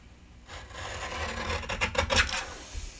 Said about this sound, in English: I'm going to trim it one more time.